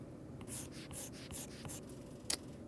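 Pen strokes drawing a crate on paper, a series of about six quick, soft scratchy marks in an uneven rhythm, close and quiet with no talking.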